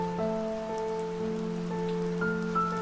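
Steady rain patters softly on a surface beneath sustained piano notes that hold and change through the passage, with no voices.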